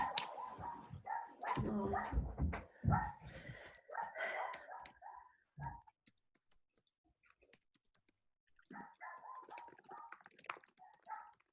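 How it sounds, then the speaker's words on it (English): A dog barks in short bursts up close, then pauses before barking again; a brief exclamation from a person is heard. "Can you hear her barking?"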